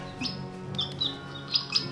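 A cartoon chick chirps in several short, high tweets, close and fairly clear, the calls spaced irregularly across two seconds over a faint background.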